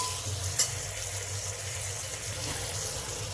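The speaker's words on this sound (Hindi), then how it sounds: "हल्का सा प्याज जब ये ट्रांसपेरेंट टाइप का हो जाए, इसी स्टेज पर हम डाल देंगे टमाटर।" Onion and tomato fry in a pan with a soft, steady sizzle and faint stirring scrapes. There is one small clink near the start, and no voices.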